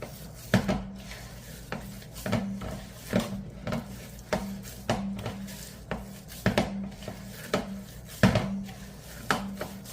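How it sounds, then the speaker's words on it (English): Bread dough for a malted yogurt seed loaf is kneaded by hand, producing rhythmic dull thumps and pressing slaps about once a second against a work surface, close and moderately loud, with no talking. "Just knead it a little bit."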